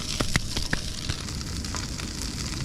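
Potatoes and steak fry on a camp stove during beach truck camping, a loud continuous crackling sizzle close up with a few sharp pops early on.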